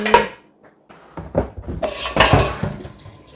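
A new metal cooking pot handled in a home kitchen, clanking and scraping in several sharp knocks with brief pauses between, close and fairly loud, with a faint hint of running water.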